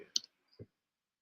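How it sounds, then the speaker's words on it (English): Keyboard typing on a streamer's desk, a few quiet, sharp clicks close by, separated by short gaps, with no talking. "You may hear my keyboard."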